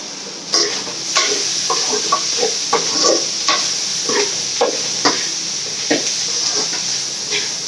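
Vegetables sizzle steadily in a hot pan for paneer fried rice while a utensil scrapes and stirs at irregular intervals, close and fairly loud.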